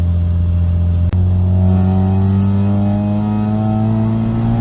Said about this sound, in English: We'll do a third gear pull on this time.